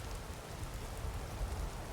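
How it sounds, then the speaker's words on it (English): Steady rain in the Skyrim game world, a soft continuous patter that stays even and fairly quiet throughout, with no voices. "The rain might be keeping us from getting warm."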